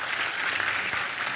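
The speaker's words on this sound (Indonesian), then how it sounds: "Kita semua tepuk tangan untuk Mbak Puan" Brief burst of audience applause at a religious gathering in Indonesia, a dense wash of clapping from a crowd heard at moderate distance.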